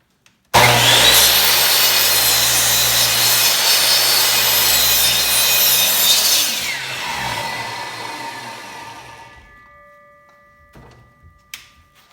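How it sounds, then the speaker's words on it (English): A miter saw slices through a wooden board, a loud, steady whining cut lasting about six seconds before the blade spins down and fades, followed by a few faint clicks and knocks. "we're gonna go ahead and line up and make this cut on the miter saw"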